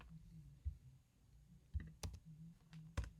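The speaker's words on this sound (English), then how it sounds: "Again, my typing." Keyboard typing during computer programming, a few soft clicks and taps scattered over a quiet background hum, close and faint.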